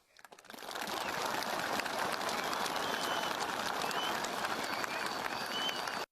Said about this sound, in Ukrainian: навіть оплески якісь неприродні